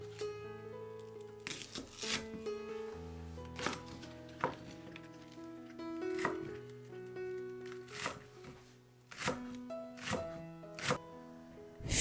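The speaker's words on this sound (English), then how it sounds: "Mince a spring onion." A knife chops pickled green beans and minces spring onion on a cutting board, with a steady run of sharp, close taps in irregular bursts and no talking.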